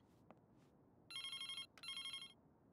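In the video game Broken Sword 3: The Sleeping Dragon, a telephone rings twice in clear electronic bursts over a faint low background hum.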